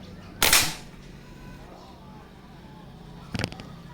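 Two sharp, loud shots from a tactical PCP air rifle with a Manlapat barrel, the first strong and the second a few seconds later, with quiet background between them.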